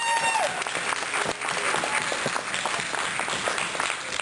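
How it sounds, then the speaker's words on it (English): Audience applauding the volunteers at a community dinner, a steady burst of many hands clapping in a room, moderately loud and continuous for several seconds. "A round of applause."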